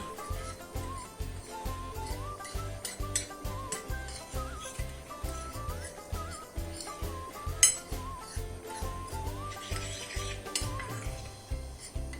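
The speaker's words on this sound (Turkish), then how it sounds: "kabıma mısır unu aldım. İçerisine bir tatlı kaşığı tuz ve bir tatlı kaşığı biber ekliyorum. Böyle güzelce harmanlayalım bunu." Cornmeal is mixed with salt and pepper in a bowl, giving a repeated, rhythmic close scraping and rubbing against the bowl that continues throughout, with no one talking.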